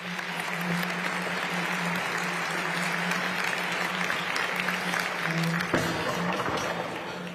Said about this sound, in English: Can I get one more round of applause for Michelle and Rachel?